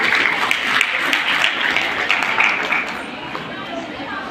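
Loud, sustained audience applause at a women's college event in a hall, steady clapping from a crowd with some chatter mixed in, tapering slightly toward the end.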